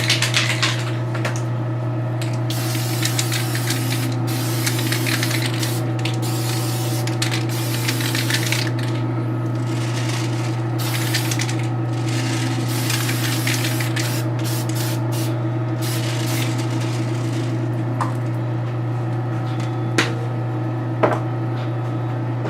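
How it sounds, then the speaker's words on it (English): Short repeated bursts of an aerosol spray hiss as paint is applied to a miniature, close and fairly loud over a constant low electrical hum, with quieter gaps between the later bursts. "let's spray it down a bit"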